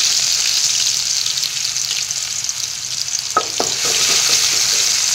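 Garlic and ginger frying in hot oil in a heated wok, a continuous loud sizzle with a few quick scraping stir strokes toward the end.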